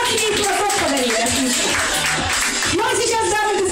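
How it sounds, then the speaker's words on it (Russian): Audience applause at a daytime Russian-language entertainment show, a dense continuous wash of clapping that fills the short stretch with steady, fairly loud texture. "Аплодисменты."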